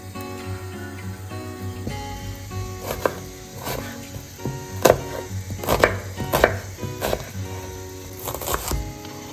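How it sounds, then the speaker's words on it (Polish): Onion being cut into small cubes with a knife on a board, a run of sharp, uneven chopping knocks growing denser and louder, heard close over a faint background hum with no talk. "obieram cebulę i e, pokroję kosteczkę i przesmażę na maśle"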